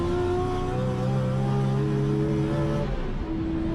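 A 1239 bhp Toyota Supra in fourth gear at full acceleration on a high-speed run, with a loud, steady engine drone whose harmonics climb smoothly in pitch for nearly four seconds before easing slightly at the end.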